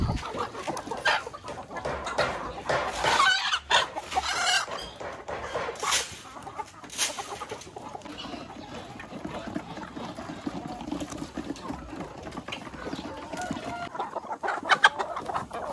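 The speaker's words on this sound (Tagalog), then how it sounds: "Dito tayo sa mga native chickens natin." Native chickens on a small farm clucking and calling at close range, with scattered squawks and a busy flock murmur running steadily through.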